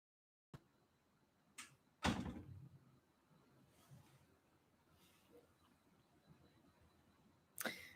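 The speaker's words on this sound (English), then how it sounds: "My door just closed." A door in a room swings shut with a sharp thud, the loudest of a few scattered knocks and bumps set against a quiet background, and nobody speaks.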